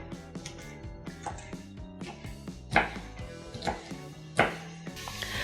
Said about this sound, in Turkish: Yeşil biberim de yemeklik doğruyorum.